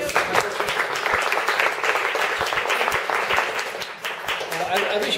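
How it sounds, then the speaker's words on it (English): An audience at a proverbs reading gives warm, sustained applause, dense clapping from many hands at a steady level, with a voice faintly heard over it. "A round of applause, please"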